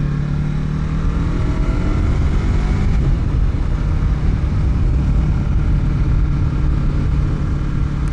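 A Yamaha R3 sport motorcycle engine drones loud and steady while riding toward a corner, a continuous close buzzing roar with wind noise and a slight shift in pitch partway through, with no voices.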